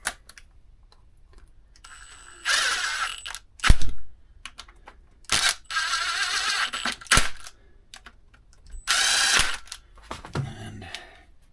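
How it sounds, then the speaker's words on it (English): A ratchet tightens the drain bolt on a 2006 Suzuki Vinson 500 ATV during a restoration, producing three separate bursts of rapid, close clicking with short quiet pauses and a few single knocks between them. "we're going to make sure that we tighten up this drain bolt"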